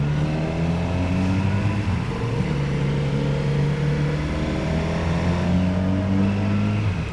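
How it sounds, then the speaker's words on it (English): A motorcycle engine revs steadily and loudly close by, with deep exhaust tones rising and falling throughout, no voices. "it does sound good with this exhaust"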